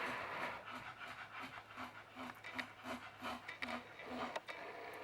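A two-year-old English bulldog pants loudly and rhythmically close by in a room, each quick wheezy breath evenly spaced, with faint rubbing noises and brief talk in the background.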